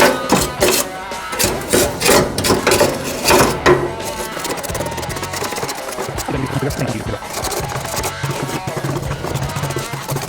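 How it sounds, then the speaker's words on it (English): Metal scraper dragging grease across a barbecue's inside and down into the grease tray, a run of rough rasping strokes at first, then steadier scraping that carries on close by. "we're going to just scrape anything that we need to down into there and pull it all out at once"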